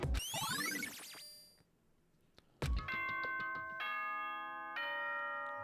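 Ding-dong announcement chime from the video game Danganronpa: bright, ringing bell tones that cascade and fade, a short pause, then a second sustained set of chiming tones with lingering, layered notes.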